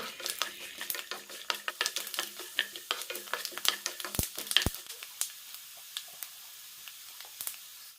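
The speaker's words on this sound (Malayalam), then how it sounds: "നന്നായി ചോക്കുന്ന വരെ വറുത്തെടുക്കാം" Peanuts roast in a pan after mustard seeds, giving a quiet, crackling sizzle with irregular sharp pops and light scraping throughout, fairly faint and with no talk.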